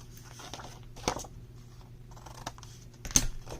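Scissors cut the edges off scored paper with a few quiet, close snips and paper rustling, two sharper cuts standing out.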